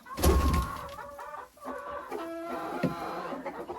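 Hens clucking close by, several short rhythmic clucks and calls, with a louder burst at the start and steady clucking throughout.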